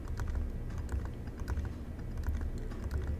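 Steady, close clatter of a computer keyboard as programming code is typed, with quick irregular keystrokes running continuously over a low background hum.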